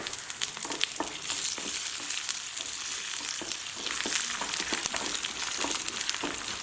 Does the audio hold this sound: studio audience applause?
no